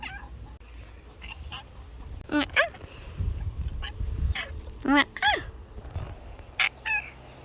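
Pet cats meowing indoors, several short high calls scattered across the clip, moderately close, with a low background rumble and no talking.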